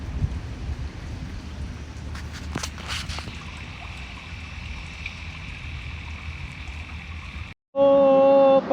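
Rain falling beside a bridge in Miami where men are fishing, a steady close hiss with a few brief clattering knocks, ending in a sudden loud tonal burst.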